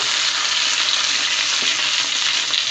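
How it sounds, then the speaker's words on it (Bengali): Tilapia fish fried crisp on both sides in hot oil, a dense steady sizzle that fills the whole short stretch, loud and close with no talking. "দুই সাইডই খুব কড়কড়া করে ভাজা হয়ে গিয়েছে"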